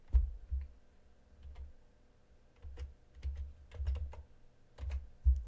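Someone types a chat command on a computer keyboard in Minecraft Education Edition. The key taps are close and moderately loud, coming in irregular quick clusters with brief pauses between them.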